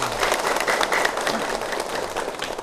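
Audience applause at a charity donation event in Cambodia, a steady dense clapping from a crowd that holds at an even loudness throughout, with no talk over it.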